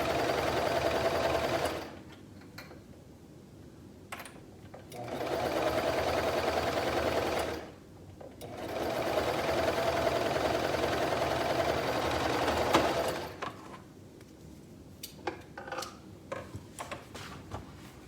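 A serger sews a fabric hem with a steady, fast mechanical whir in three long bursts, pausing briefly between runs and ending with a few soft clicks and handling sounds.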